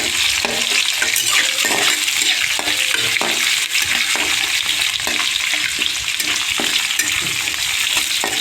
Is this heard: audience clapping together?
no